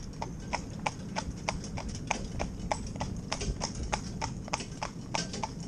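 Steady, rhythmic clip-clop of a cob horse's hooves trotting on a hard surface, close and even, over a low rumbling background.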